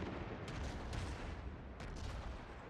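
Naval gunfire and shell impacts on a ship in World of Warships, several quick sharp bangs over a dense, continuous roar of battle noise, faint overall.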